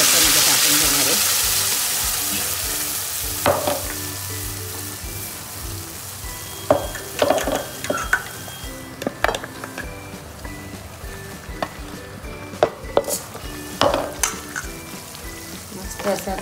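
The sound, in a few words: ground masala paste with curd sautéing in hot oil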